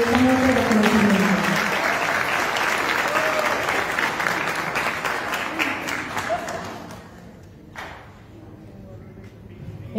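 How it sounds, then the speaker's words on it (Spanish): A crowd at a youth council awards gala in Belén, Medellín applauds loudly, the clapping gradually thinning and fading out toward the end, with a few voices mixed in. "esta noche un aplauso fuerte y decidido a todos los colectivos"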